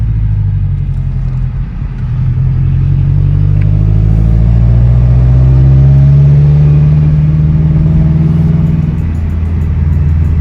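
Built turbocharged Toyota FRS engine revving under light boost, a loud, close rumbling drone whose pitch climbs steadily through the rev, with no talking over it.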